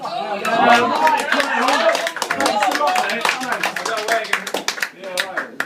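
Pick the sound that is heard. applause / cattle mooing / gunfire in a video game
applause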